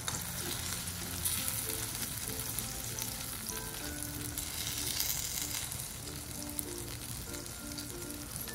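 Semolina batter fries in a pan on medium heat, giving a dense, continuous sizzle and crackle that stays even and fairly close throughout, with no voices.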